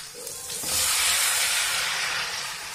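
Tomatoes dropped into a hot pan with onions set off a loud, steady sizzle that swells within a second and holds as a broad, hissing roar, close and alone without voices.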